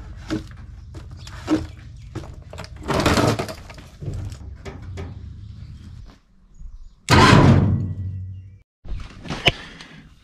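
A welded metal frame on an amphibious ATV build, raised by a winch on a pivot, slams down hard with a loud burst of clatter and impact near the close, after scattered knocks and handling noises.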